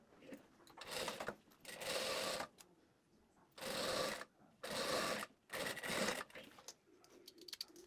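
Sewing machine stitching a seam with a 1 cm allowance, joining a skirt panel to the center-front piece of a pair of shorts, in several bursts of steady whirring separated by short pauses.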